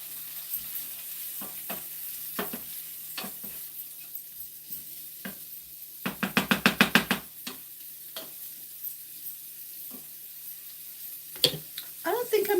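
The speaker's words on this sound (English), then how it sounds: "let me stir those around real quick" Food sizzling in a pan as it is stirred, with a steady low fry broken by sharp scraping strokes and a burst of rapid clatter midway, close and clear.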